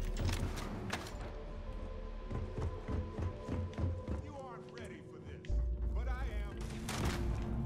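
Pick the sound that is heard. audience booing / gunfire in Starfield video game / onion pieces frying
gunfire in Starfield video game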